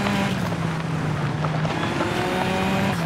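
A rally car engine drones loud and continuous on a snowy stage of Rally Sweden in the WRC Generations video game, its pitch shifting with the throttle.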